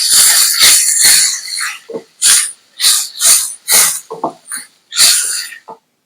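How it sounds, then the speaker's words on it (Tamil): Loud hissing and sizzling bursts from sliced onions, crushed garlic and two medium tomatoes sautéing in a hot pan for a quick lunch dish. The sizzle surges and drops in repeated waves, close and prominent. "வெங்காயம் வதங்கி கண்ணாடி பதம் வந்ததும் கட் பண்ண 2 மீடியம் சைஸ் தக்காளி,"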